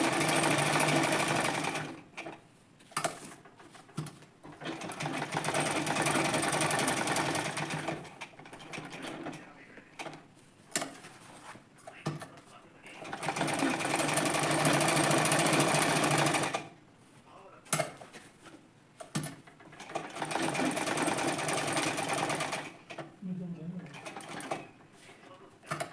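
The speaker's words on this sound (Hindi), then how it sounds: "एक बैक की सिलाई इस साइड से लगाएंगे" Sewing machine stitching a back seam on a salwar hem design, running in several loud bursts with short pauses between them, close by, with occasional faint speech in the gaps.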